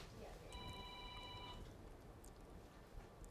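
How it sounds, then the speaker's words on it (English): A telephone rings once with a single electronic tone lasting about a second, faint under a murmur of background voices on a live shopping show set. "Uh-oh, the secret red phone."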